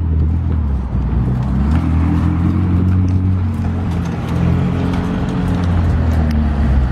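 McLaren 600LT supercar rolling slowly past with its lift system raised, a loud low engine rumble holding steady and close throughout amid street background noise.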